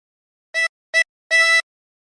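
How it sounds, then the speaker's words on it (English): Three blown notes on hole 8 of a harmonica, two short ones followed by a longer held tone, close, bright and alone in silence. "And blow into 8 3 times."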